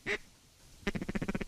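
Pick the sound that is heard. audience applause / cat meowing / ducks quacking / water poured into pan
ducks quacking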